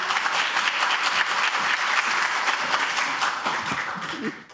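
An audience applauds as a lawmaker walks to the podium at a launch ceremony for a social welfare group's presidential election committee, dense sustained clapping that fades out at the end.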